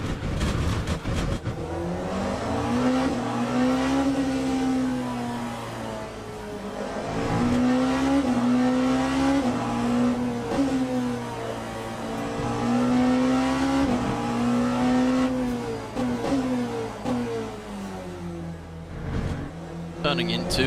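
A race car laps Daytona in a racing game, its engine droning steadily with rising and falling pitch through shifts and corners, loud and continuous, with someone talking over it.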